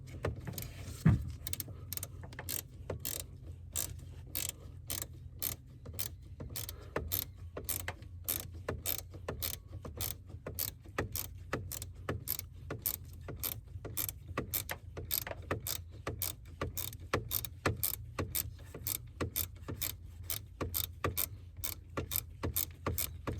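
A small hand tool turns a long screw on a Mazda Miata ignition switch, giving a steady run of rapid, close ratcheting clicks that carries on evenly over a low hum, with no talk.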